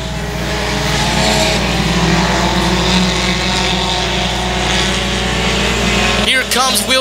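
Race cars roaring around the track at Boyd Raceway during a heat race, a loud sustained engine drone with a race announcer talking over it, ending in a brief shift of tone as cars pass.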